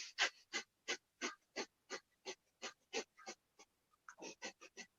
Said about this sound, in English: And again, breath of fire.